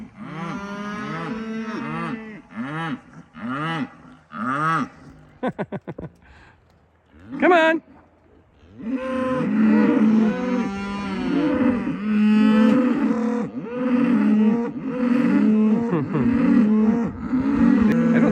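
A cow and calf pair mooing close by, with long, loud, repeated bellowing calls that overlap one another, while a person shouts encouragement to the cattle.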